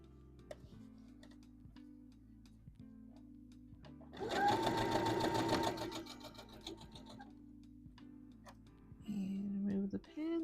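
A sewing machine stitches a dress from McCall's M8141 pattern through thick fabric, with one long rapid whirring run in the middle and a second shorter burst near the end, separated by quiet ticking and handling noises.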